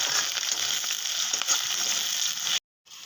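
Onion, green chili and curry leaves fry in a pan with a steady bright sizzle, close and continuous, then cut off briefly near the end.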